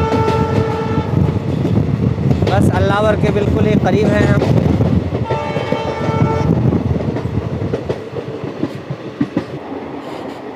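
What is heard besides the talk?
train at Nagargali railway station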